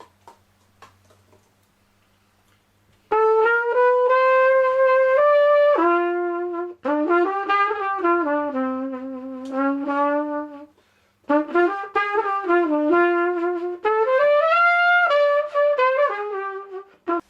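A trumpet played with a felt-lined mute gives a warm, softened tone across several melodic phrases separated by short pauses, close and clear, with faint low noise before the playing begins.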